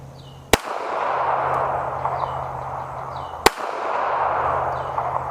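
Two sharp, loud pistol shots from a Taurus Spectrum .380 at a shooting range, about three seconds apart, each a crisp crack followed by a brief ringing tail over steady outdoor background noise.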